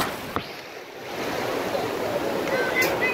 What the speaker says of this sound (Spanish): Ahí viene una ola, amigos.